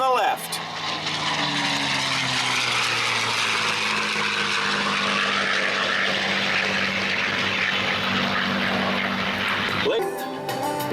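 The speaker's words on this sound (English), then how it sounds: "Be sure to see the authentic and famous Redtail P-51 as it goes by and gets ready to land." A P-51C Redtail Mustang propeller aircraft flies by at an air show, its engine drone loud and sustained with a gradually falling pitch as it passes, then cutting off abruptly near the end.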